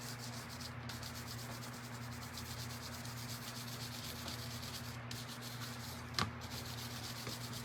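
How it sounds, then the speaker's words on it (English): Steady hand-sanding of a chalk-painted wooden pumpkin sign, a continuous close scratchy rasp of strokes running throughout with a couple of brief pauses and a faint steady hum underneath. "And then I'm going to sand it as well, okay?"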